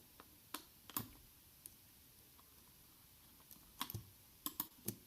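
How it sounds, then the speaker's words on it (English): Computer keyboard typing into a Zoom chat box during an online session: sparse, faint clicks and short key bursts over a quiet background, with no talk. "I'm just clicking something and putting it into the chat box."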